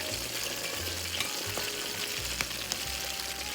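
An egg foo yung patty fries in a pan, giving a steady close sizzle with a few faint pops and clicks throughout.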